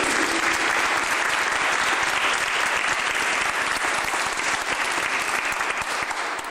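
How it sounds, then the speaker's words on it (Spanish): A conference audience breaks into strong, sustained applause for a speaker, a thick continuous wash of clapping that holds steady before easing slightly at the end. "Pido para él un fuerte aplauso porque se lo merece"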